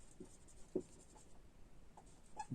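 Pen or chalk strokes writing on a board during a botany lecture, a few scattered scratches and taps spread across a couple of seconds, fairly quiet with room hiss and no talking.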